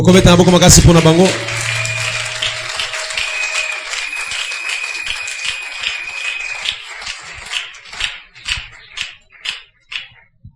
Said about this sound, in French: Est-ce qu'on peut acclamer très fort pour eux?